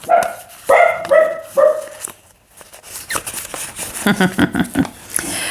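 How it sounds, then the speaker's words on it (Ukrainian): A dog barks four times in quick succession close by, then fainter scuffling and a softer string of short sounds follow. "Моя собака відгавкала по сусідах."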